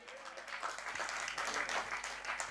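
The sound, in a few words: congregation clapping in church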